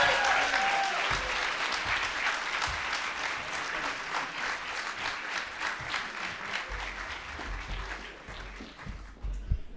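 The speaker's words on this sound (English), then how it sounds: "So a round of applause for Mehdi" Applause from a summit audience for the speaker Mehdi swells loudly at first, then gradually thins and fades over about ten seconds.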